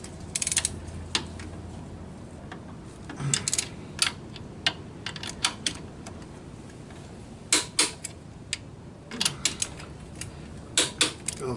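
Torque wrench tightening old bolts on engine connecting rods, giving scattered sharp ratcheting clicks and metallic creaks in short bursts over a low background hum, close and fairly quiet.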